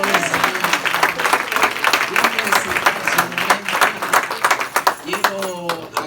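Loud, sustained applause from a large church congregation indoors, with cheering voices mixed in throughout.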